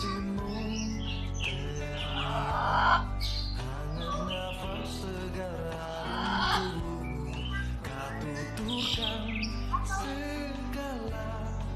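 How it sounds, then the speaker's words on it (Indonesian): A zoo aviary full of mixed birds, including cockatoos and macaws, keeps up loud, continuous chirping and harsh squawks close by, with layered calls throughout and a brief bit of talking mixed in. "Di sini banyak jenis burung ya."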